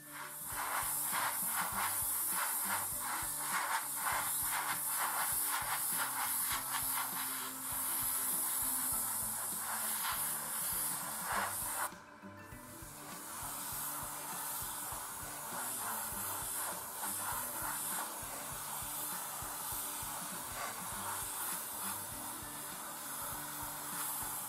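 Tamiya LP70 Gloss Aluminium lacquer paint sprays onto an Eduard 1/48 F-104J model kit in a loud, continuous hiss that breaks off briefly halfway and then resumes slightly softer.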